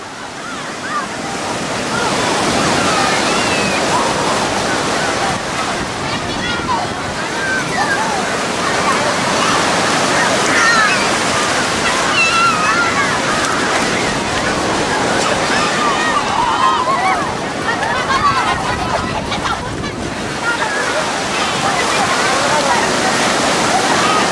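Continuous roar of surf washing in, steady and broad, with wind buffeting the microphone and a voice speaking over the crashing water.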